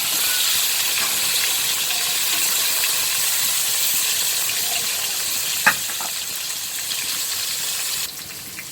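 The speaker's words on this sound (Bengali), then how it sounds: "এখানে পটল কেটে নিয়েছিলাম, পটলটাও ভেজে নিচ্ছি।" Cut pointed gourd (potol) fries in hot oil, a loud continuous hiss and sizzle with one sharp knock, close and alone.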